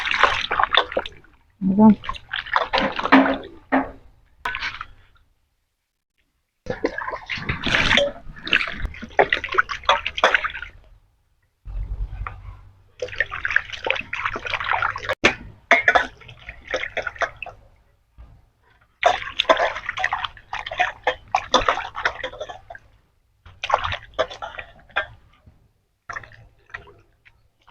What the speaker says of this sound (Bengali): মাছ কাটা হয়ে গেছে, মাছ ধুয়ে নিয়ে আসি